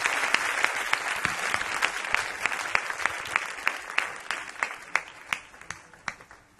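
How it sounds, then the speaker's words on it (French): A church congregation applauds in praise of Jesus, a dense burst of clapping that thins into slower, distinct claps toward the end, loud and close with scattered voices beneath. "On peut encore donner gloire à Jésus par des acclamations"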